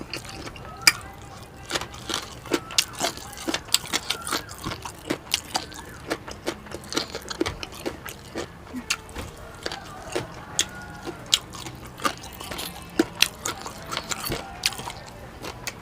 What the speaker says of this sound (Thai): มะม่วงก็กรอบกรอบพี่น้อง